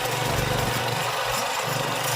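A mini power tiller's small engine runs at a steady, close, droning idle with a rough low-pitched rumble and no speech over it.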